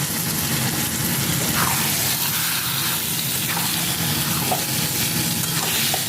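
Marinated chicken kept frying over a high flame in a pan of spiced masala, a dense continuous sizzle close by with faint stirring scrapes running underneath.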